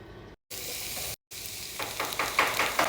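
Onion frying in oil in a pan: a steady, close sizzle broken by two brief dropouts, growing into livelier crackling spits toward the end.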